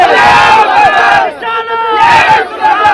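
A large crowd at a Sunni scholars' rally in Dhaka roars a takbir response in unison, loud chanted bursts that rise, dip briefly and surge again, with voices rising and falling together.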